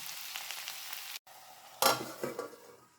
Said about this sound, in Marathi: दोन चमचे शेंगदाण्याचा कूट घालते सगळं छानपैकी मिक्स करून घ्यायला